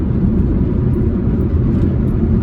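A Mini Cooper accelerates around a bend on a 50 mph road, giving a steady, loud cabin-level engine and road roar with no pause over a couple of seconds.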